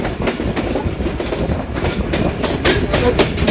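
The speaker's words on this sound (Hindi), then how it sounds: "बहरिया रोड रेलवे स्टेशन को थ्रू पास किया" The 16Dn Karachi Express train passes through Bahiria Road railway station, a steady loud rumble with rhythmic wheel clatter and broadband rail noise throughout.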